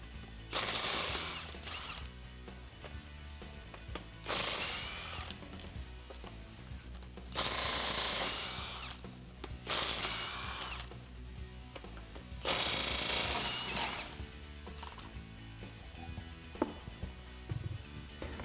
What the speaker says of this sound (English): I'm going to be using a 22mm deep socket in order to do that.